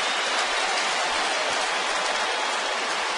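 Rain falls at a baseball stadium during a Boston at New York Yankees game, a steady, even hiss that holds at the same level throughout with no voices.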